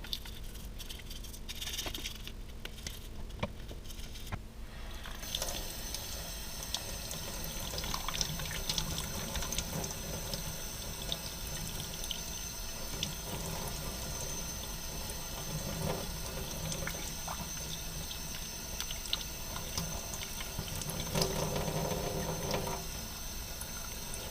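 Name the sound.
water rinsing a toy S98 Gleaner combine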